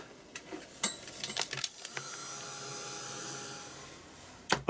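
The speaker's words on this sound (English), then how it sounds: "I'm just going to give that a quick blast with a heat gun" A heat gun blows steadily to dry an art journal page, a whirring hiss with a faint tonal hum, preceded and followed by light clicks and handling noises.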